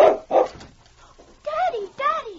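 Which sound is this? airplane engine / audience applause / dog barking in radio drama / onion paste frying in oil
dog barking in radio drama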